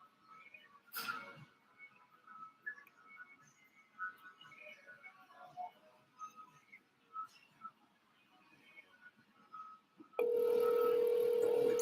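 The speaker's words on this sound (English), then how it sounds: "Oh, it's ringing." An outgoing phone call rings with faint, repeated electronic tones over quiet background noise, then a loud, steady burst of noise cuts in near the end.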